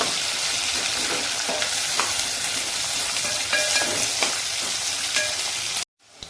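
Chopped onion sautés in a hot pan for soybean pulao, a steady dense sizzle with occasional crackles and stirring scrapes, close and continuous until it cuts off abruptly near the end.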